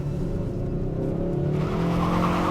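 The front tires of a 2021 Kia K5 GT squeal as the torque spins the front wheels from a standing start. A steady, loud screech rides over the engine's drone and builds slightly toward the end.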